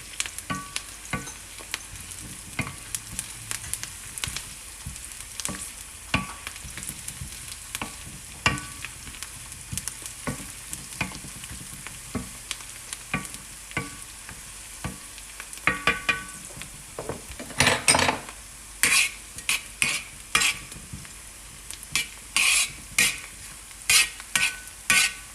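Onions frying in a pan, a steady soft sizzle with repeated scraping and stirring strokes that grow busier and louder toward the end, heard close up without speech, while cooking tawa beef.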